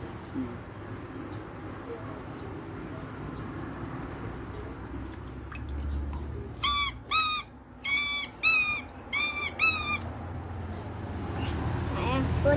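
A toy dinosaur played with in water gives six short, tonal electronic roars in quick succession, loud and close, over faint watery handling noise and low background sounds.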